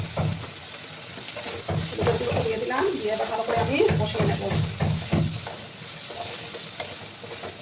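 Cut potatoes with ground turmeric fry in a pan with a moderate sizzle and spatula stirring, while someone talks over the cooking at close range.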